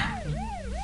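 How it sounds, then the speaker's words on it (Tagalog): A police siren wails close by, its pitch sweeping up and down in a steady rising-and-falling cycle with a low rumble beneath it. "Nakabati ako sang tunog sa ilang sirena."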